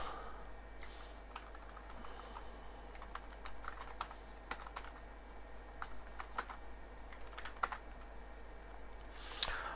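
Quiet, close typing on a computer keyboard, with scattered keystrokes and short bursts over a faint steady hum and no talking.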